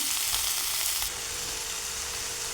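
Onion and tomato sautéing in a pan for a spicy Marathi eggplant bharit, a steady loud sizzle heard up close, with no speech.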